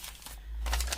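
Sheets of paper crinkle and rustle as they are handled while a junk journal made from a puzzle box is decorated, with soft close crumpling that swells louder in the second half.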